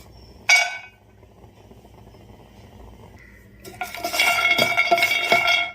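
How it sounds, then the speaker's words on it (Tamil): Almonds clatter as they drop into a hot kadai, then rattle and scrape as they are stirred and roasted, a sharp initial clink followed by a busy metallic scraping. "கடாய் சூடு வரவும் நாம எடுத்து வச்சிருக்க பாதாம் போட்டு லேசா வறுத்துக்கலாம்."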